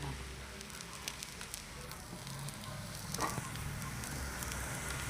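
Onions and green chillies sizzle and crackle in hot oil for masala dosa, a steady, fairly quiet frying hiss with small pops throughout.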